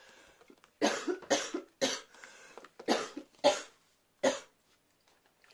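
Someone coughs seven times in short, harsh bursts spaced about half a second apart, close to the microphone with silence between them.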